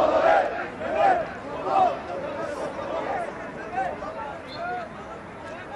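Fenerbahçe supporters at a Samandıra training session chant a player's name, Mehmet Topal: rhythmic swells of crowd voices rising and falling every second or so, with a commentator talking over them.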